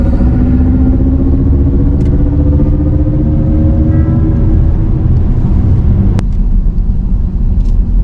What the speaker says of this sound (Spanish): No es el sonido falso de un motor de combustión, evidentemente, eso faltaría, es el sonido de una nave espacial